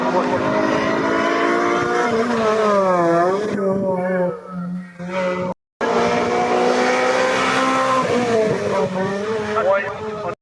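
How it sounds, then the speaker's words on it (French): A Renault Clio 3 Cup race car at a hill climb, its engine loud and close, revving through rising and falling gear changes, with a brief break and a commentator talking over it. "Célia, qui roule avec la Clio 3 Cup d'Anthony Leduc."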